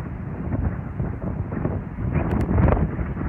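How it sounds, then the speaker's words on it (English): A strong gale blows outdoors, buffeting the microphone with a low, rumbling, gusting roar that swells and fades, with no talk. "Absolutely blowing a gale today."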